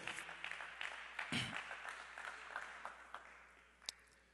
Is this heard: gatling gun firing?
no